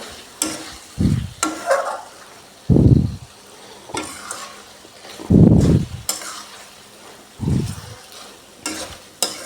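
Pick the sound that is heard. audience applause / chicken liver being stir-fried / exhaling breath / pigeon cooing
chicken liver being stir-fried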